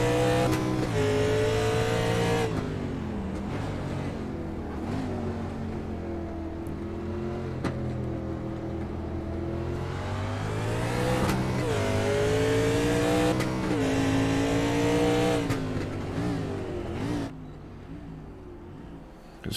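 Race cars at Mid-Ohio track in a national series race roar continuously and loudly, engines revving up and down through gear changes as several cars pass close by, with brief tire noise and no talk.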